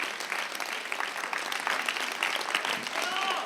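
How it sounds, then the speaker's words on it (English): Audience at a chamber concert applauding the musicians after a performance, a steady, moderately distant wash of clapping with a faint voice briefly audible near the end. "Another round of applause, please, for our amazing, amazing musicians."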